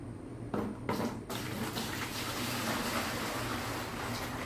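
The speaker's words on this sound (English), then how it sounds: "Now I'm going to go ahead and transfer the solution into this bucket right here." Garden solution is poured into a bucket for transplanting, a steady continuous splashing stream of liquid filling the container, moderately quiet and uninterrupted.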